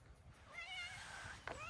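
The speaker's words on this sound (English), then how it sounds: "this is our neighbor's cat" A neighbor's cat gives a single drawn-out meow beside a vintage camper van outdoors, faint and close, followed by a brief sharp sound at the end.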